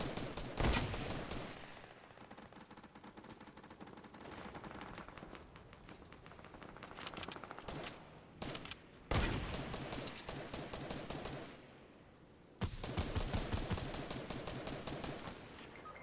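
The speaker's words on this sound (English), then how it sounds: "Well, somebody just got sniped." Gunfire from a Fortnite match, including a sniper rifle shot: sharp loud cracks stand out among bursts of rapid firing and clattering game effects, with brief gaps of quieter ambience between volleys.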